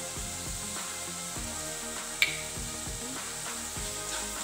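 Chopped green chillies sautéing in a pan with garlic and salt for a beef cutlet filling give a low, steady sizzle and hiss that runs under background music throughout.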